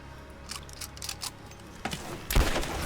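Scattered gunshots in Rise of the Tomb Raider, a handful of sharp, separate cracks spread over a few seconds, ending in a louder, closer shot.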